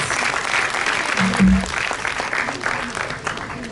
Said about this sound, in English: Can we hear a huge round of applause for our eminent chief guest?